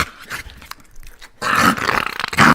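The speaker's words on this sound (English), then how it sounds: "she's got a puppy too." A puppy growls and snarls in a short burst of rough, throaty noise, with a louder stretch in the second half, close and alone without talk.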